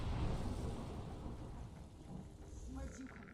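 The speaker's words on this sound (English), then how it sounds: "So, lightning is striking the same spot." Thunder rumbling in a stormy Skyrim video game scene, a loud broad roar with steady rain hiss throughout the few seconds, with no clear sharp strike crack standing out.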